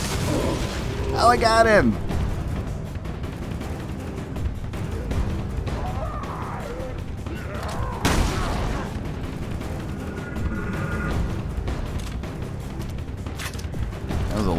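Grenade and bomb blasts in the video game Resident Evil Revelations 2 during a fire zombie boss battle, dense booming bursts and crackling over continuous game noise, with a spoken exclamation early on.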